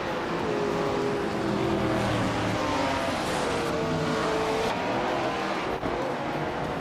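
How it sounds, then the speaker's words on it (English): Race cars in a video game, led by a 1966 Chaparral 2E at a high-speed ring, roar continuously with layered engine revs, shifting pitch and passing cars, loud and sustained. "the race has kicked off at the Bajkorniki high-speed ring, and leading the pack is Nuts in the 1966 Chaparral 2E"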